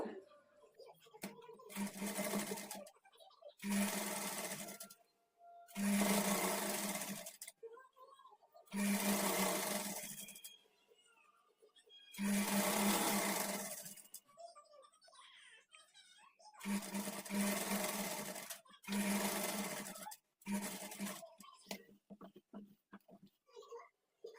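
A sewing machine stitches a double-folded side slit on a kurti in repeated runs of a few seconds each, with pauses between them and someone talking over and between the runs.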